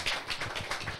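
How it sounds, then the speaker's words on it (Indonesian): Brief applause from agricultural training participants in a room, a burst of many hands clapping in quick, uneven rhythm, close and moderately loud, with no talking. "Tepuk tangan."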